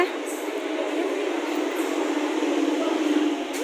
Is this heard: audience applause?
no